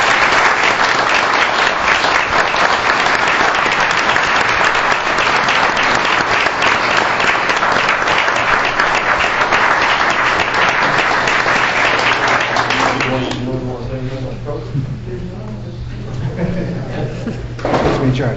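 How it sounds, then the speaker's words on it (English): Sustained applause from an audience at a career center ceremony honoring building construction students, a dense steady roar of many hands that thins and fades after about thirteen seconds as a low hum and faint murmuring remain. "join me in giving these fellows a big round of applause."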